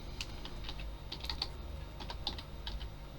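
Someone types on a computer keyboard, with scattered soft key clicks in an irregular rhythm. It is fairly quiet and close, with no talk.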